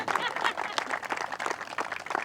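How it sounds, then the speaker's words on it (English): A crowd at a soccer field opening claps in a dense, continuous burst of applause, loud and nearby, with voices mixed in. "Let's make some noise for all of them. Clap it up for them."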